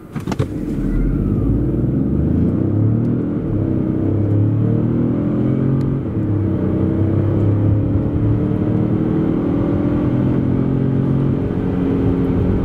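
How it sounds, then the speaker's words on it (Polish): Cabin sound of a Peugeot 5008 GT 1.2 Hybrid (136 hp) accelerating hard from standstill to 100 km/h, with a steady engine drone rising in pitch through the gears and heavy road rumble. "Tak auto przyspiesza od 0 do setki."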